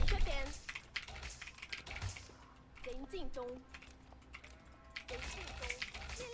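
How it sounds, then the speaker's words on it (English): Quick clicks from a computer keyboard patter in uneven bursts over a gaming setup, fairly close, with a voice speaking over part of it. "it's just a question if you guys prefer to hear the keyboard or not"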